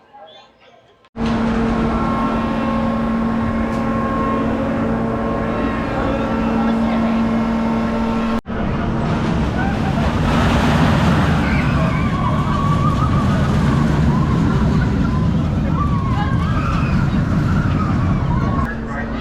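A Vekoma Boomerang roller coaster at Wild Adventures in Georgia rolls out on its ride, a loud steady rumble of track and wind roar that swells midway and continues, with a few faint voices on board.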